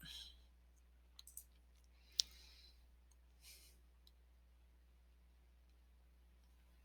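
Faint, sparse computer mouse clicks, a few soft isolated taps with one sharper click, over a quiet low hum in a still room.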